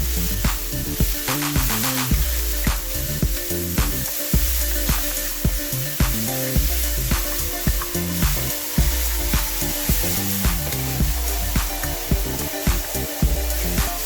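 Minced meat sizzles loudly in a wok with garlic, with a steady, close hiss broken by regular scraping and stirring strokes throughout.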